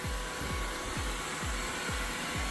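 LEVOIT LVAC-200 cordless stick vacuum cleaner running with a steady whooshing motor hiss, repeated low thumps and sweeps as it is pushed back and forth over the floor, no talking.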